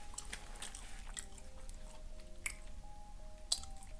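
Close, quiet chewing and squishy bites of Chipotle food, with wet mouth sounds and a few sharper crunchy clicks.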